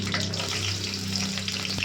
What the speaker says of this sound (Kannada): ಬೆಳ್ಳುಳ್ಳಿ ಹಾಕ್ತಾ ಇದ್ದೀನಿ